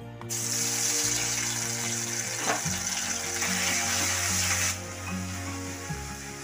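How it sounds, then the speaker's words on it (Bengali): Ginger garlic paste hits hot refined oil in a wok, giving a loud, steady hissing sizzle close up that carries on for several seconds before easing slightly, with no voices. "তেলটা গরম হয়ে যাওয়ার পর তেলের মধ্যে 1 চামচ আদা রসুন বাটা দিয়ে দিচ্ছি।"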